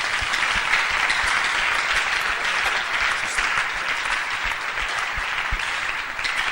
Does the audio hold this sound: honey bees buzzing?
no